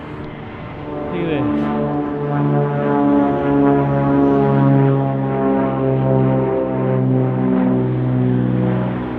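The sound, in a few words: airplanes flying overhead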